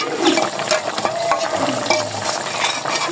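Ground garam masala paste stirred into a frying curry in a home kitchen: loud scraping and stirring strokes against the pan over a continuous close sizzle, with no talk.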